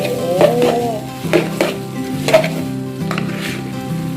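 Oil sizzles and crackles steadily in a wok as noodles are stir-fried, with a few clinks and scrapes of the utensil against the pan over the continuous frying hiss.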